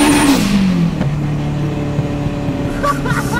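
Turbocharged Honda Integra Type R engine revving loudly nearby, pitch sweeping down from a high whine into a steady low drone, with faint voices underneath.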